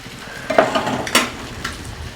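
Grated coconut goes into a simmering tomato curry, with two brief splashy bursts over a soft, steady bubbling sizzle close by.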